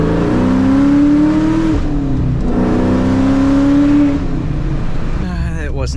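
A Ford Mustang Cobra engine revs loud and close from inside the car while driving, climbing in pitch through two long pulls with a brief drop between them, then easing off into a lower, rougher idle.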